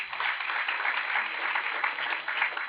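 Audience applause at a university talk, steady dense clapping from a crowd, moderately loud and continuous throughout with no voices over it.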